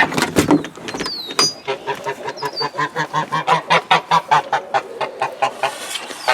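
Domestic geese honking in a pen, eager to be let out, a rapid run of loud, close rhythmic honks with overlapping calls.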